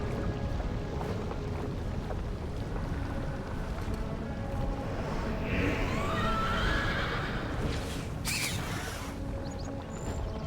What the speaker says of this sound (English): Ride our majestic horse of several years.